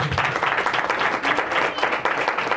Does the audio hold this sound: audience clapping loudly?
yes